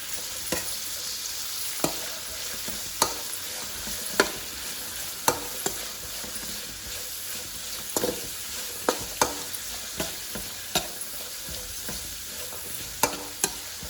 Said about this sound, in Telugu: ఆయిల్ వేడెక్కింది. ఇప్పుడు పచ్చిమిరపకాయలు ఉల్లిగడ్డలు వేసుకున్నామండి. వేసుకొని ఒక్కసారి కలబెడదాం.